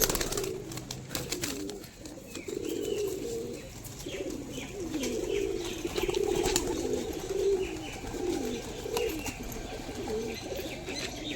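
Pigeons, including Madras and Giribaz breeds kept for sale, coo in soft repeated low phrases throughout, with scattered chirps and light background noise around them.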